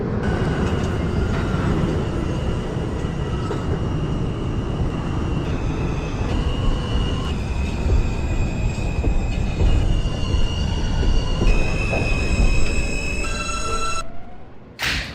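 An R subway train in the openBVE simulator runs along the track with a constant rumbling roar, rising whining tones and wheel squeal building toward the end before a sudden cutoff; no talking.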